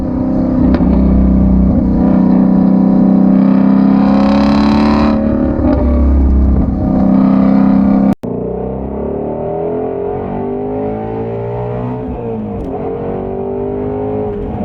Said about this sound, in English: You'll hear in the exhaust clips, I'm only going to give you the loud mode.